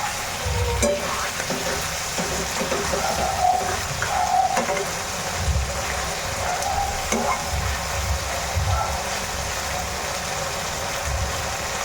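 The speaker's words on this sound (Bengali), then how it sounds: "অনেকক্ষণ ধরে নাড়িয়ে চাড়িয়ে ভেজে নিলাম চিংড়ি মাছগুলো" Prawns fry in a pan, stirred over a long stretch, giving a continuous loud sizzle with occasional scrapes of the spatula and a low rumbling hum underneath, no voices.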